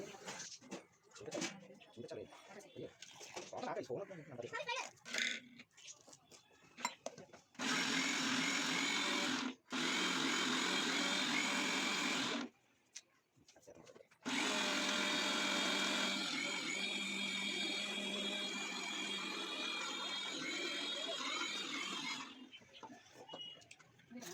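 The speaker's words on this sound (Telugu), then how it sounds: "నెక్స్ట్ అయితే ఇక్కడ నేను మిక్సీ పడుతున్నాను" A kitchen mixer grinder whirs in loud, steady bursts, stopping briefly between runs. Quieter background sounds and a voice come before the first run.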